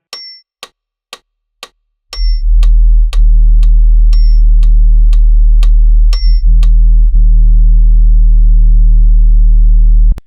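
A deep synthesized sine bass enters after a few ticking clicks and chirps, then holds as a loud, sustained low drone under a steady tick pattern, briefly dipping before cutting off at the end.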